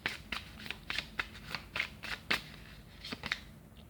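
A deck of oracle cards is shuffled by hand, giving a quick, close series of crisp riffling flicks and soft slaps in an uneven rhythm, quiet and alone.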